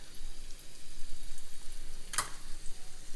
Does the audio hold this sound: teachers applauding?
no